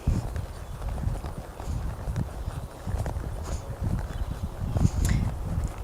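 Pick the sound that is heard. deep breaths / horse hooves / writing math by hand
horse hooves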